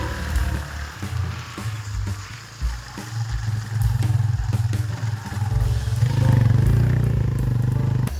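A motorcycle ride on a hill road near Gurpa, Gaya, with a steady close engine drone and rattling clatter, rising louder toward the end.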